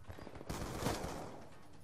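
Submachine gun fire in Call of Duty: Black Ops 2 rattles in quick bursts, moderately loud and close, with a continuous stream of rapid shots dominating the whole stretch.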